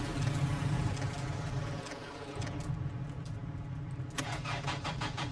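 A car engine cranks and catches in the video game My Winter Car, a loud starter whir settling into a running rumble with a faint jangle of keys, no talk over it.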